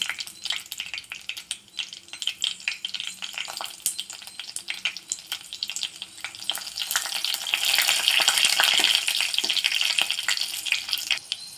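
Dried red chilies and green chilies fry in hot oil in a pan for a horse gram kulambu, with a steady close crackling sizzle that grows louder and brighter partway through, with no talking.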